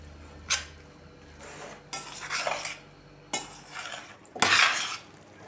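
A spoon stirs and scrapes a garlic-laced sandwich topping mixture in a bowl, in four separate bursts of clinking, scraping strokes with short quiet gaps between them.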